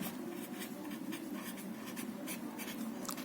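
Pen or pencil writing steadily on paper during a Class 9 maths worksheet lesson, a continuous close scratching with short strokes and no talk over it.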